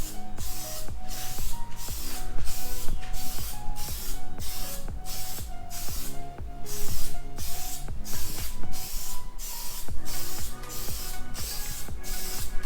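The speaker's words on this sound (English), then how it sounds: "so let's just mist it." Repeated pumping sprays of wax and grease remover misted over the rear bumper of a Nissan Skyline V35 Infiniti, a rapid, rhythmic series of close hissing bursts with mechanical clicks from the sprayer, continuing steadily with no talk.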